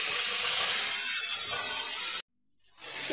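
Boiled cauliflower florets seasoned with salt and turmeric drop into hot oil with potatoes for a Bengali cauliflower curry, giving a loud, broad, continuous sizzle. The sizzle cuts out abruptly near the end and then resumes.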